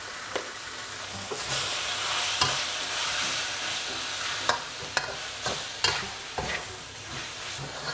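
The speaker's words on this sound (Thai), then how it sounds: "ผัดทุกอย่างให้เข้ากันนะครับ" Spicy wild boar with seasoning stir-fried in a pan, a continuous close sizzle broken by repeated scraping strokes of the spatula.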